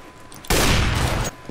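A rapid burst of gunfire in CS:GO, one loud continuous volley of close shots lasting under a second, standing alone against quiet game ambience.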